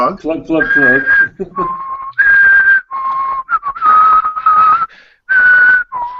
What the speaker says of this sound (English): you can stop whistling now